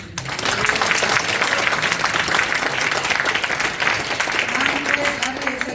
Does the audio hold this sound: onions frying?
no